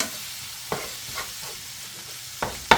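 Ground meat browning in a skillet for a burrito skillet supper, a low steady sizzle with occasional scraping stir strokes and utensil clicks as the meat is broken up, close and fairly quiet with no talk.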